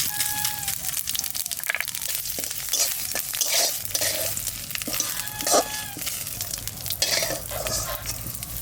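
Cumin seeds and two dried red chillies frying in oil in a pan, a steady crackling sizzle with occasional stirring scrapes, close and continuous, with no talk.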